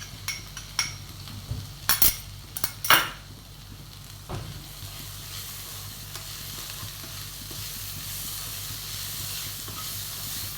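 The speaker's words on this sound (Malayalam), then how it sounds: "ഇനി ഇതിലോട്ട് ഇഞ്ചി വെളുത്തുള്ളി ചതച്ചത് ചേർത്ത് കൊടുക്കാം." Crushed ginger and garlic hitting hot oil with onions in a pan for a mutton curry: a few clattering stirs and scrapes early on, then a steady quiet sizzle and hiss for the rest, with no speech.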